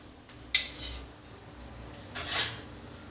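Butter being mixed into hot curd rice with a spoon, two short metallic scrapes against the vessel separated by quiet, faint and close.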